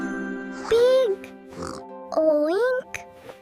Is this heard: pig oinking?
yes